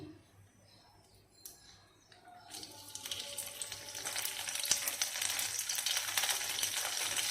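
Nuts and raisins hit hot ghee with cardamom and bay leaves for sweet zarda semai, starting quiet, then a sizzle that swells and holds steady, close by, with a few faint background voices.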